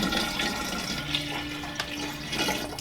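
Water pours steadily from a gallon bottle into a 2.5-gallon dispenser, a continuous close gurgling splash with no speech.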